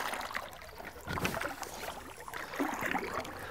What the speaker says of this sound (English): If you want to turn using this J stroke, just bring your paddle out a little farther and you can finish off with a sweep.